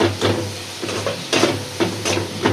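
Shrimp fry and sizzle in a pan for Bengali bottle-gourd curry, a close crackling hiss with rhythmic stirring scrapes every half second or so.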